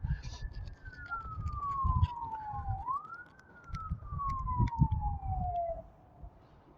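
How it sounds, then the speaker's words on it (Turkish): Wailing fire engine sirens sweep down and back up in pitch over a low rumble of traffic in İzmir during a wildfire, fairly distant and continuous throughout. "Sürekli siren sesleri geliyor."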